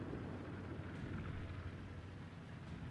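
A warship's gun salvo in World of Warships booms into a dense, sustained low rumble, heavy and distant-sounding, rolling on without a break and with no voices.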